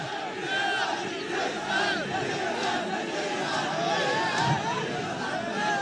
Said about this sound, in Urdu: اب یہ نعرے نہ لگاؤ، ہماری بات چیت چل رہی ہے